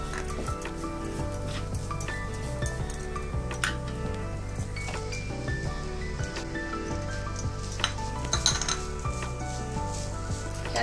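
Coconut being stirred in ghee in a metal pan, with repeated scraping and clinking of a spoon against the pan over a low sizzle, steady and close throughout.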